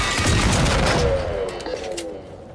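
Gunfire in the video game Generation Zero, a dense volley of shots fired at the player that rolls out loud, then thins toward a fainter tail with scattered later pops.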